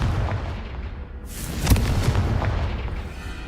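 A single Confringo spell blast in Hogwarts Legacy on hard difficulty, a sharp, loud burst near the middle with a booming tail, set over a constant low rumble of game ambience.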